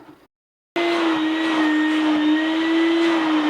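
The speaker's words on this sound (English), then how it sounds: "we'll vacuum this up" A wet-dry shop vacuum, used with a Wagner steamer to lift grease from furniture, starts abruptly after a brief pause and runs with a steady, loud, close whine.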